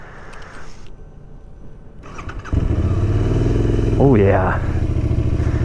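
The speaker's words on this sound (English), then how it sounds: "Sounds pretty nice too. I mean, this pipe he's got, not super loud, but I think it's just the right amount of noise." A brand-new Royal Enfield Continental GT motorcycle with an aftermarket exhaust pipe starts up and settles into a loud, close, throbbing idle, with a quick rev near the end. Someone briefly speaks over the engine.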